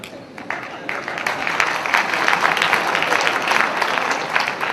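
Audience at a state-level workshop claps in a dense burst of applause, loud and sustained with individual hand claps audible, building after a brief quieter start.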